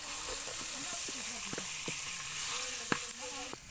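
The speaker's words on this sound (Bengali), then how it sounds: "হলুদ গুঁড়ো দিয়ে একসাথে মশলাটা কষিয়ে নিতে হবে" Spice paste of tomato and turmeric being cooked down in a pan after fried chillies, for a banana-flower and prawn dish, giving a faint, steady sizzle with some soft clinks and low background voices.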